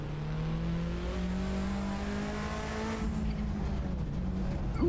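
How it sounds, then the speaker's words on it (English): A Cosworth RS500 with a turbo chatters on throttle lift-off in the video game Assetto Corsa, with a loud, continuous engine drone that shifts pitch near the end. "You can hear the turbo chattering away."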